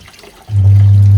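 A washing machine fills with water, a loud, steady low hum cutting in about halfway through and holding to the end over faint background noise.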